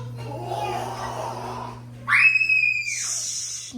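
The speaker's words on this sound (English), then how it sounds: "no screaming." A young child lets out a loud, high-pitched scream or squeal partway through, close by, after a stretch of low background noise and a steady hum inside a lodge hotel room at a Disney resort.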